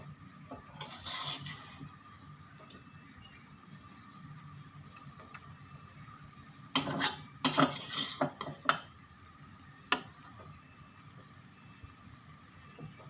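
Small raw hilsa fish coated in spices goes into a pan of boiling water in a home kitchen. A quiet background hum gives way to a short burst of metal clanks and scrapes, then one last clink.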